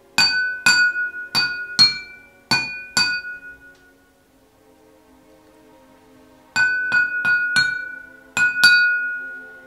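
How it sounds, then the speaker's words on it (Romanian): Drinking glasses clink in repeated sharp, ringing strikes, two bursts of about six clinks each separated by a few seconds of near silence, bright and close. "v-am plictisit suficient cu acest sunet de pahare"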